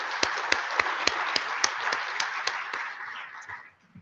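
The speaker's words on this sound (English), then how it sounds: "Let's give them a round of applause." An audience at a luncheon applauds. Distinct claps beat out a steady rhythm over a broad wash of hands that fades away near the end.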